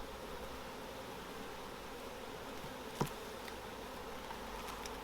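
Honey bees buzz in a steady, even drone during a hive inspection, with one brief sharp click partway through.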